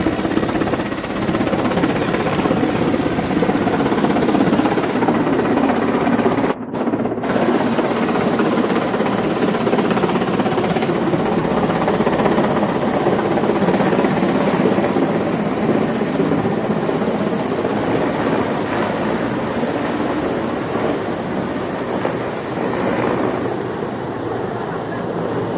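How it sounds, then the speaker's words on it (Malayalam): A security helicopter landing at the NSS ground in Changanassery, a loud continuous thudding rotor and engine roar that holds steady and close throughout, with only a brief dip near the start. "മൂന്നാമത്തെ ഹെലികോപ്റ്റർ ഇപ്പോൾ പ്രകാരം വന്നുകൊണ്ടിരിക്കുകയാണ്."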